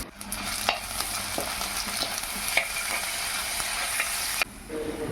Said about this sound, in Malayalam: വറ്റൽമുളകും കറിവേപ്പിലയും ചേർത്ത് ഒന്ന് ഇളക്കുക